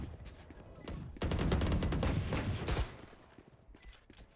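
Gunfire from Valorant, a tactical shooter, erupts in a dense burst of rapid shots, loud and close, with a few scattered shots before and after.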